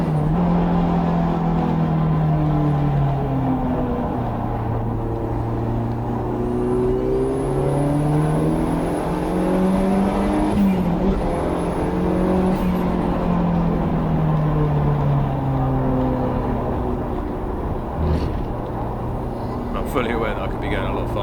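A turbocharged race car circles a wet Brands Hatch, its engine droning loud and steady with rising and falling pitch, while a high turbo whistle and 'choo choo' wastegate chuffs come through over a voice talking throughout.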